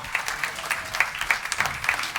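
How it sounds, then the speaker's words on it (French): A small audience at a June school concert claps for the triangle soloist, a sparse, fairly close patter of individual claps with distinct separate hits rather than a dense roar. "Soliste du triangle, on l'applaudit bien fort"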